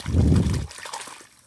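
Water pours over a toy concrete mixer truck during washing, a brief close gush that quickly tapers into light trickling and dribbles.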